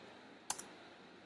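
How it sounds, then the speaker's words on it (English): Computer keyboard on a Mac being typed on, with a quick pair of sharp, close key clicks in otherwise near silence, the last one pressing the enter key. "Now I'm typing GCC and pressing enter."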